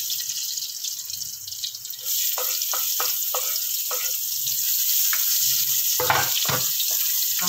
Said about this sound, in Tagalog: Gigisa na tayo gisa na natin ang ating adobo.